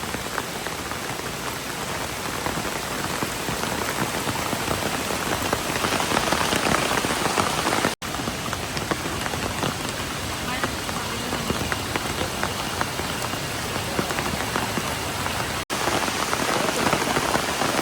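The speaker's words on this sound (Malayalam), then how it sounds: "മഴ കൂടി കൂടി വരിക." Heavy rain pours steadily on a forest walk near Kakkad, a dense continuous hiss of drops pattering on leaves and an umbrella, loud and close throughout, with no pause and brief breaks in the recording.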